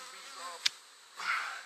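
Honey bees buzzing faintly nearby at a two-queen hive being set up, with a brief sharp tap in the middle as bees are shaken off, and a louder swell of buzzing toward the end.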